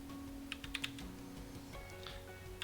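Someone types a spreadsheet formula on a computer keyboard, with a few scattered close key clicks, including a quick cluster, against a quiet room hum and no talking.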